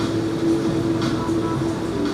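A train travels with a steady loud rumble and a sustained low hum, plus faint rattles, on a morning commute in New York City.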